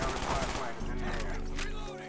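A Kiparis submachine gun fires rapid automatic bursts in Call of Duty Black Ops 1. The dense, continuous shooting sits under game noise and faint talk.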